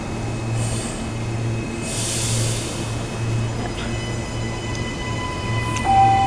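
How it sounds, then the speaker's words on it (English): A Gold Coast train departing Coomera station rumbles steadily with a low mechanical hum and faint squeals rising near the end, heard from the platform with no talk. "And as this train departs"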